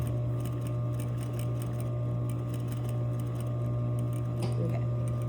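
A sewing machine stitches a curved seam 1/8 inch from an earlier stitch line, with a steady mechanical hum and a fast, even clatter throughout, fairly quiet, with a brief extra rustle near the end.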